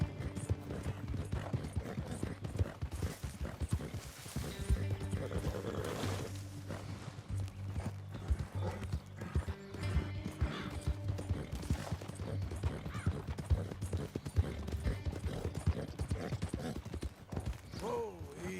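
Steady clip-clop of horse hooves while riding in Red Dead Redemption 2, even and continuous under faint background music and ambience.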